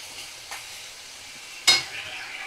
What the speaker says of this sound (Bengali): আমি মিডিয়াম ফ্লেমে রেখেই 2 থেকে 3 মিনিট একটু নাড়াচাড়া করব